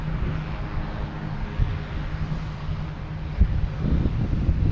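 A Delta airliner lands on runway 4 Left at Boston Logan Airport, its steady engine roar held at a distance beneath wind rumble on the microphone, with a few low thumps near the end.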